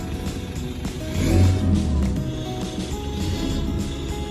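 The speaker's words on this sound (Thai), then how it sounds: "เดี๋ยวลองฟังเสียงท่อนะครับ" An Isuzu D-MAX 1.9 Ddi six-speed manual four-door pickup idles through its exhaust with a steady low diesel drone that swells briefly as it is revved once, close by with no talk.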